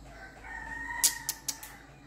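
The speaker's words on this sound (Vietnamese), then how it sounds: "Nghe xem con gà chiến của tôi hôm nay bị đánh" A fighting rooster crows faintly in the background, with a few short sharp higher bursts breaking in over the drawn-out call; the sound is fairly quiet and distant.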